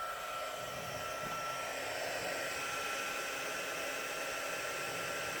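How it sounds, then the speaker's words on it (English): A handheld embossing heat gun blows continuously, giving a steady whirring hum and airy rush that stays even and close throughout, with no talk. "And I'm going to grab my embossing gun."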